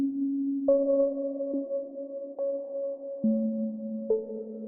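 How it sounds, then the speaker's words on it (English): A smooth synth plays a slow sequence of sustained notes with a reverb effect, each change marked by a soft attack, while the held tones blur and ring into one another at moderate volume. "find a reverb. We're going to insert this right on top of the synth"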